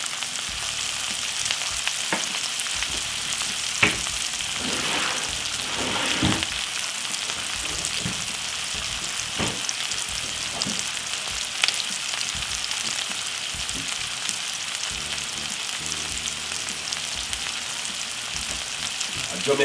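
Salt fish with spring onion, tomato and ghost pepper seasoning fries in a pan with a steady bright sizzle for a long stretch, punctuated by occasional scrapes and knocks from stirring.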